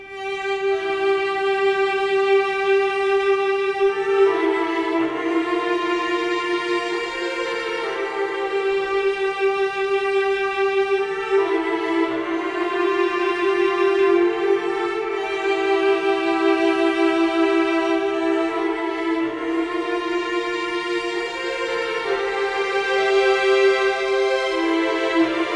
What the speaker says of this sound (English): So you can see I have these legato articulations for violins 1, 2, and violas, and that sounds like this.